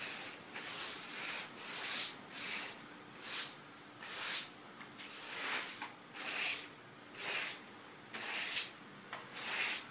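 Carpet rake drawn across a freshly cleaned carpet, soft brushing strokes repeating in a steady rhythm about twice a second, quiet and close.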